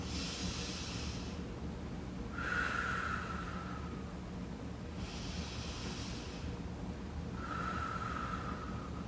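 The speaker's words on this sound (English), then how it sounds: "Just keep breathing, taking big breaths." Slow deep breathing during a guided movement exercise, alternating long airy inhales and exhales in an even rhythm, soft and close with no talking.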